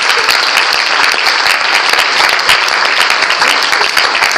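A church congregation applauds loudly, a dense, continuous burst of many hands clapping up close with sharp individual claps standing out throughout.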